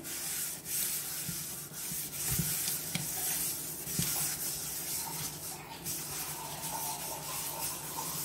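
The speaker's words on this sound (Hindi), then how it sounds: "अब इसको इस स्क्रब की सहायता से चारों तरफ लगाएंगे" An iron wok scrubbed with a scrubber and Pitambari cleaning powder, a continuous gritty rubbing and scraping close by with a few knocks against the metal, no talking.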